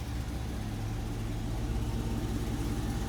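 A 1957 Chevrolet Bel Air convertible with a 283 V8 and four-barrel carburettor idles, a low, steady, rumbling engine note heard close and alone.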